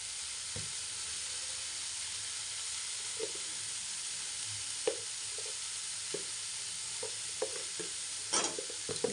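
Cauliflower and fish curry with turmeric stirred in a pan, a steady close sizzle with scattered soft scrapes and knocks of the spoon against the pan, no voices.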